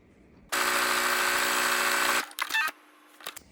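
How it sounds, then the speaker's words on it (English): Sewing machine stitching a zigzag seam along the short edge of fabric for a scrunchie, one loud steady motor whir for about two seconds, then a few short clicks and rustles of the fabric being handled. "I'm going to run a zigzag stitch along the short side right here."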